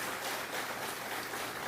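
Church congregation applauding together at a worship service, a dense, steady wash of clapping with no breaks.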